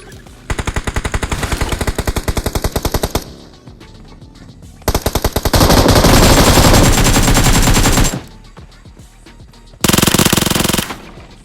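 Heavy automatic gunfire from a teammate's position in BGMI (PUBG Mobile), loud and close, in long rapid bursts with brief pauses between them and a final short burst.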